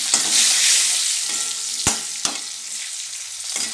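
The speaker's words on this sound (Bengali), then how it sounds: "এবার আলুটা ভেজে নেব একটা তেজপাতা দিয়ে দিলাম" Potatoes fry with a bay leaf in a pan for a Bengali cabbage and fish-head curry, giving a steady close sizzle broken by a few sharp utensil knocks from stirring, with no talking.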